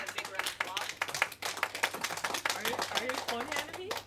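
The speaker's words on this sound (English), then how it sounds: "let's give Allison a big round of" Audience applause at a Toastmasters club meeting at HKBU School of Business, a dense patter of clapping hands that rises and carries on steadily, with voices mixed in over it.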